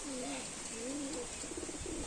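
Soft, repeated coos from moulting pigeons sitting in the sun, a low throaty warble rising and falling a few times against a steady background hiss.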